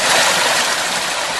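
Spring water in the Catskills flows in a loud, steady broadband rush, close and continuous, with no breaks or voices.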